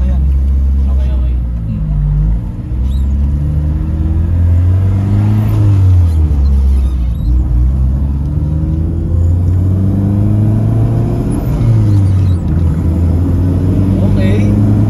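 A K24-swapped Honda Civic engine revs and pulls through rising and falling pitch sweeps, loud and close from inside the car, with people talking over the engine throughout.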